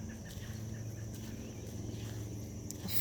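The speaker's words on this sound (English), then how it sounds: "You hear those sounds of birds singing and some crickets and" Outdoors in nature, faint crickets keep up a steady chirping while birds sing softly in the background, a quiet continuous ambience with no talking.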